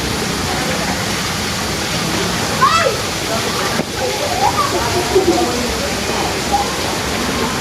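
A cold mountain stream or waterfall roars steadily and loud close by, with a few faint voices and splashes breaking through the constant rush of water.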